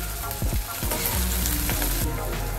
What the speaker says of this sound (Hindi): तो ग्रीन चिल्ली भी हमारा भून के हो गया है